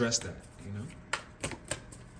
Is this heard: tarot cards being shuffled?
yes